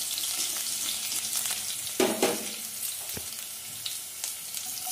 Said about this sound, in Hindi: तेल हमारा अच्छा गर्म हो गया है, अब मैं इसमें जीरा ऐड करूँगी, अदरक और मिर्च ऐड कर दिया है